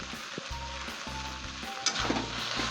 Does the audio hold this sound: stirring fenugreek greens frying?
yes